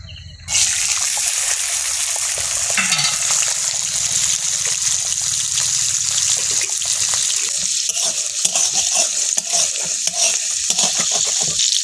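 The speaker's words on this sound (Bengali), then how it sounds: "ছোলাগুলো ভেজে নাও।" Kabuli chickpeas fry in a pan with a steady, close sizzle and scraping stir strokes running throughout, loud and continuous with no talk.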